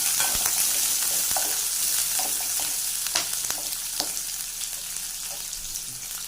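Chopped onions sizzle steadily in a hot clay pot with mustard seeds for an eggplant curry, a dense continuous crackle with occasional sharper pops, close and fairly loud throughout.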